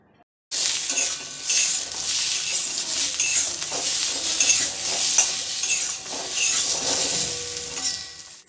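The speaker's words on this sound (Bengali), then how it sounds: "আর এই পটলটা ভাজার সময়তেই সামান্য অল্প করে নুন আর একটুখানি হলুদ আমি দিয়ে দিচ্ছি।" Pointed gourd (potol) is fried in a pan with a little salt and turmeric, giving a loud, steady sizzle that starts suddenly, with occasional stirring scrapes and light clinks of the utensil nearby, with no voices.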